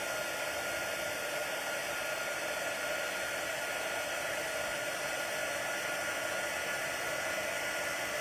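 A handheld heat tool blows steadily for card embossing, giving an even, continuous airy roar at close range with no voices.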